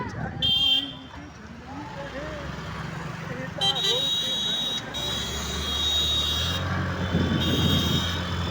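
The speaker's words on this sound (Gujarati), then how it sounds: "હોર્ન મારતા રે" Car horns beep in short bursts amid rumbling road traffic, while people talk loudly nearby.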